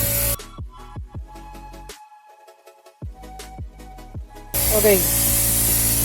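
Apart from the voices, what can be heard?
air compressor used for clutch bleeding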